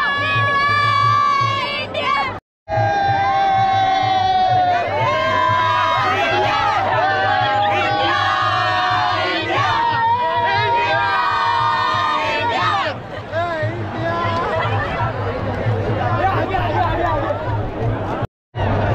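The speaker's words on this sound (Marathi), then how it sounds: "खूप अशी गर्दी झालेली आहे आणि पंकज बघूया काय करतो" A huge crowd roars and cheers along Mumbai's Marine Drive at India's T20 World Cup victory parade. Shouts, chants and babble pile into a loud, continuous wall of noise that breaks off only for a moment twice.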